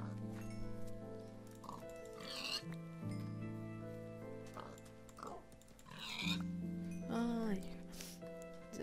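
Pigs in the video game Minecraft give several short, nasal oinks and grunts at irregular intervals, set over soft background music, while someone speaks quietly in between.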